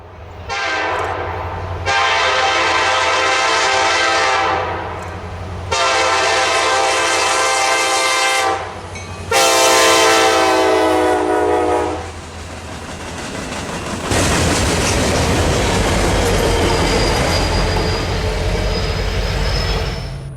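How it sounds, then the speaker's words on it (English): A Kansas City Southern Dallas-to-Atlanta intermodal freight train sounds several long, loud horn blasts while approaching a crossing in Dubberly, Louisiana, then passes with a steady roar of rumbling wagons. "the Dallas to Atlanta intermodal is seen blowing through the crossing"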